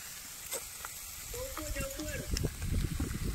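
Fish frying in oil on a clay roof tile over an outdoor fire, with a steady close sizzle and hiss and occasional crackle, under talk.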